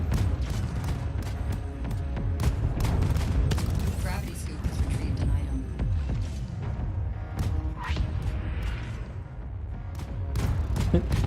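Breaker weapons fire in the video game Void Crew, a sustained barrage of booming, crackling blasts with repeated sharp hits over noisy combat, as several people talk throughout.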